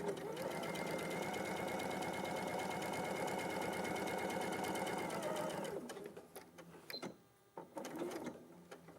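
A sewing machine stitches a pocket on a corduroy jacket, giving a steady, fast, even whirring hum that stops partway through, followed by faint handling clicks in a quiet room.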